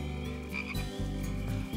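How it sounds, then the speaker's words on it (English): Frogs croak steadily at night in a children's song, a dense, continuous chorus of throaty pulses close by with musical accompaniment running underneath. "You can hear the froggies singing."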